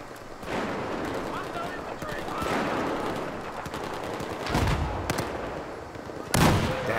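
QBS-09 shotgun fire in Battlefield 4: several heavy booming blasts, the loudest near the end, over constant battle noise and distant gunfire, with a player talking over it.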